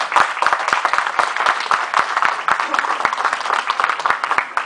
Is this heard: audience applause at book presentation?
yes